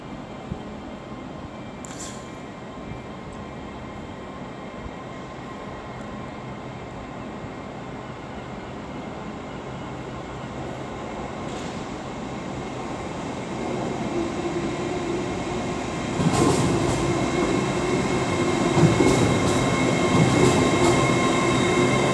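A Class 802 TransPennine Express train departs Liverpool Lime Street station, its engine hum and rolling rail noise building steadily and growing louder toward the end, with occasional wheel squeals and no voices.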